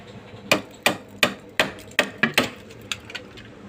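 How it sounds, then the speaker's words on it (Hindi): Sharp, hard chopping strikes land in a fairly steady rhythm, about eight close, loud hits followed by a few softer taps. "चाकू के इस्तेमाल करना पड़ता है,"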